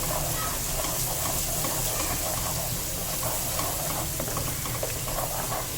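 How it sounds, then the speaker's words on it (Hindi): Garlic and ginger sauté in a pan for a kofta curry, giving a steady, close sizzle with scattered stirring scrapes throughout and no voices. "थोड़ा सा इसको भून लेंगे जब तक कि अच्छी सी खुशबू आ जाए लहसुन की और अदरक की ना"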